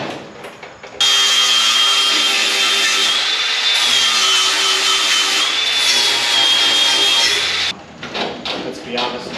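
A flap disc grinder sands the body of a 1926 Model T rat rod, a loud, steady high-pitched whine with a gritty rasp that starts abruptly and runs about seven seconds before cutting off.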